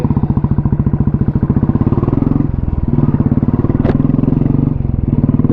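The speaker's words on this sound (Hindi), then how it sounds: "अभी गाड़ियाँ आती जाती रहती है।" A vehicle engine on a road in Kargil, India, running steadily and loud up close with a rapid pulsing throb, while a brief higher tone rises briefly near the middle.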